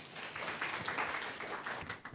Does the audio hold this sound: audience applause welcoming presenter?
yes